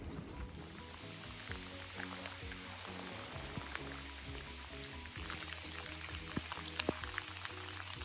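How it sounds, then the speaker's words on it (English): Steady rain falls on a wooded portage trail along a canoe route in northern New Hampshire, a dense, even patter close by with occasional louder drops, heard alone with no talking. "It's raining again."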